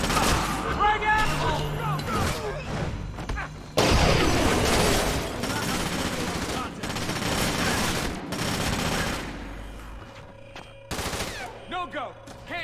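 Gunfire crackles in bursts through the video game Splinter Cell: Conviction, with a frag grenade blast thumping loudly partway in, while voices talk over the shooting and a low droning score continues underneath.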